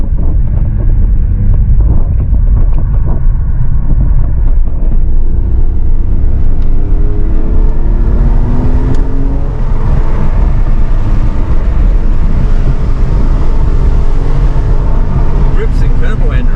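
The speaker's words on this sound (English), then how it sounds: "put on a sports exhaust, which I'm really glad he did, because this thing sounds amazing" A Porsche 911 fitted with a sports exhaust drives at speed, its engine note steady and loud beneath constant road and wind roar, with some rising tones around the middle.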